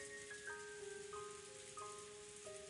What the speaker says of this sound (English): Quietly, quietly, the rain fell down.